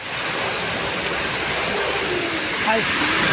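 Rain falling on the misty Thamarassery ghat road at a hairpin bend in Wayanad, a loud, dense, steady rushing hiss that fills the whole scene.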